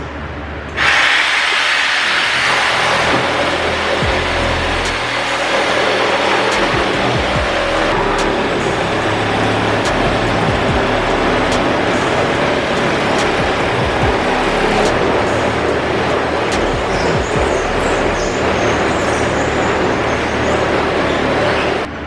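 A power tool cuts steadily into a $1,200 carbon fiber hood for a turbo Nissan 350Z, making a loud, continuous, harsh broadband roar that runs close and unbroken for the whole stretch.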